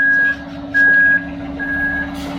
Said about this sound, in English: number 2 truck decided to back in